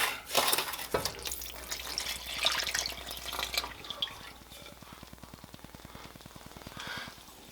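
Liquid poured into a pot for chocolate pie filling, with splashing and clinks at first, then a softer rapid rhythmic stirring or bubbling that fades, close and moderately loud.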